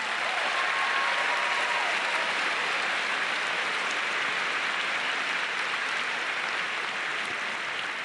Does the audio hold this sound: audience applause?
yes